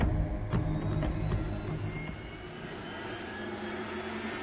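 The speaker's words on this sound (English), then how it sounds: "The choppers arrived from base along with another gunship." Military helicopters arriving from base together with a gunship in Vietnam, a steady loud roar of engines and rotors with a rising whine, fairly close and sustained throughout without speech.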